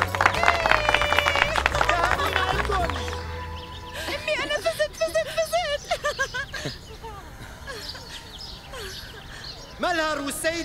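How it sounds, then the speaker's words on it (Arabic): An audience claps and cheers at a televised competition as the winning couple is called up to take the cup, with lively music and rhythmic clapping swelling over a steady crowd roar and a presenter's voice breaking through. "تصفيق"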